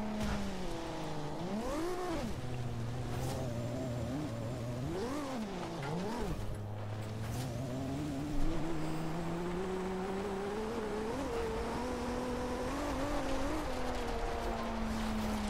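A Toyota Supra races offroad in Forza Horizon 2, its engine droning loud and near, revving up and down through gear changes before settling into a steady rising pitch.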